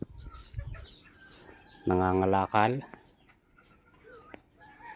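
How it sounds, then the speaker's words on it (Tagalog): A brave mother hen raised on open ground gives a short burst of loud clucking calls near the microphone, set among faint farmyard bird chirps, with a person talking quietly nearby. "Napakatapang na inahin."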